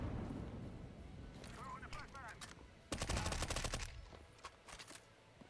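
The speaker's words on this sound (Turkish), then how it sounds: "Abi bu adamın silah anlamıyorum bu kadar hızlı." Gunfire in Counter-Strike 2 comes through as a dense burst of rapid automatic shots in the middle, with scattered single shots around it. A player talks over the game sound.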